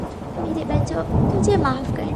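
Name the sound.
rain and thunder in animated story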